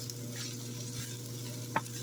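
Chicken seasoned with crushed chilies browning in a frying pan, a soft steady sizzle with a low hum beneath and one brief utensil knock, quiet and alone.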